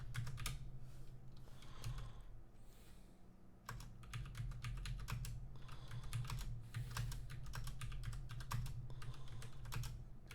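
Keys on a graphing calculator are pressed in a steady run of quick taps, close and soft, over a low electrical hum with no talking.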